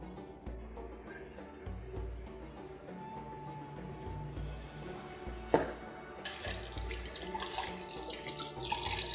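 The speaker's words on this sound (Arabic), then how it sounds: "بغسل بس طروف زبدية العسل" Tap water running into a kitchen sink as the edges of a honey bowl are rinsed, a steady splashing that grows louder and brighter partway through, with a brief clatter in the middle.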